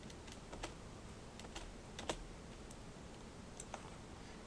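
Computer keyboard key presses while animating in Maya, a scattering of light, close clicks spread irregularly over a steady background hiss, with one slightly louder tap near the middle.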